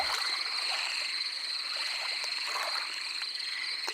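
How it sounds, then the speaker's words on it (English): Frogs croaking in the Cosmoria VR space museum game, a dense, steady chorus of chirping calls from several frogs over a high insect-like hum, with no voices. "I think I hear frogs."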